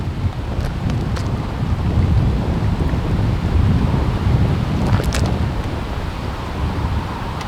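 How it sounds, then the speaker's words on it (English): Wind blowing steadily across St Johns Lake at a fishery, a continuous broad rumbling gust noise buffeting the microphone with no let-up throughout. "if the wind carries on blowing in this direction"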